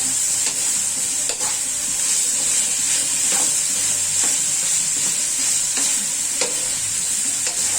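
Paklay, a Bisaya offal stew, frying in a pan while being stirred, a loud close sizzle with regular scraping strokes of the spoon every second or so, steady throughout and with no talking.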